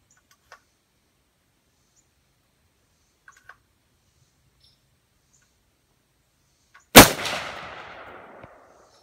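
A single loud gunshot at an outdoor shooting range cracks out after a long quiet stretch with a few faint clicks, its echo tailing off over about a second and a half.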